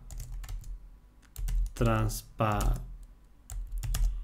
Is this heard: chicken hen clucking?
no